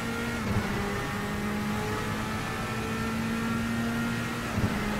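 An LMP prototype race car engine in the Assetto Corsa racing game drones at a steady, high-pitched whine with slight pitch shifts, continuous and close, with no talking.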